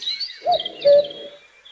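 Birds of a dawn chorus in a city park, a few close, clear chirps and whistled calls in short bursts, with brief pauses between them and no voices.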